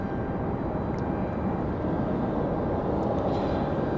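A FedEx ATR turboprop approaching Raleigh-Durham airport, a steady, loud broadband engine roar that holds evenly throughout with no talk.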